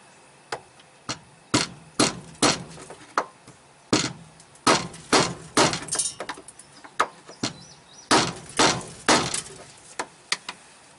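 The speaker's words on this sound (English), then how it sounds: "Tap on that with the hammer." Sharp metallic hammer taps on the rusty fuel pump locking ring of a 1999 GM pickup truck ring out in an irregular series, about twenty hard strikes, some in quick pairs, close and loud with short gaps between.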